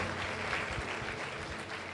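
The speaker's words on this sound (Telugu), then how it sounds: "ताली बजाओ प्रभु को" Church congregation clapping in praise during a Hindi–Telugu sermon, a dense steady patter of many hands filling the whole stretch at moderate level, no voices on top.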